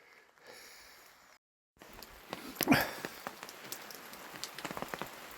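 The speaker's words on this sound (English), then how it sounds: "raining pretty good now" Rain pattering on a campsite in a snowstorm: a brief muffled stretch, then a dense spatter of drops, some striking close and sharply, building steadily with no talk.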